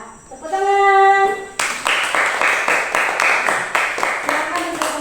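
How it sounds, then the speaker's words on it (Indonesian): A classroom group claps hands together, first a sustained tone and voice, then rhythmic, fairly loud collective clapping in regular beats that continues to the end. "tepuk tangan"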